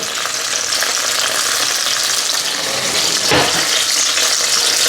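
Onions fry in a pot for an Indian-style chicken soup, a loud, dense, continuous sizzle close up with a brief stir midway and no voices.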